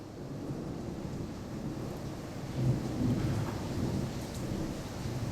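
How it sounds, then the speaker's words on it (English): Thunderstorm with steady rain and a low rumble of thunder rolling in partway through, heard from indoors, moderately loud and continuous with no talk. "you can hear we got a storm here, boys."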